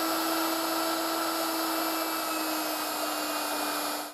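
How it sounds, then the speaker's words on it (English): Machine sharpening a tungsten TIG welding electrode: a steady high whine of the grinding motor runs unbroken and loud, then cuts off at the end. "turn on the machine and sharpen. We sharpen tungsten from both ends."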